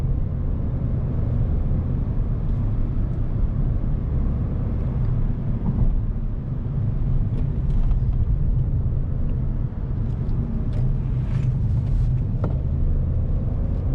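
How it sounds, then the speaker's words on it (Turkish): Inside a 2024 Renault Clio with a 1.0 TCe three-cylinder engine and X-Tronic automatic gearbox, a steady low engine drone and road rumble fill the cabin, with faint occasional clicks and no speech. "içeride böyle çok hırıltılı bir motor sesi yok."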